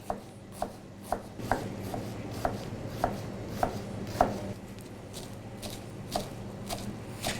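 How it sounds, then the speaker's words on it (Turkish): A knife chops onions on a board for anchovy rice, with about a dozen evenly spaced, crisp close thuds at a steady moderate pace over a faint background. "Şimdi 0 veya 1 numara gibi bu şekilde soğanlarımızı doğruyoruz"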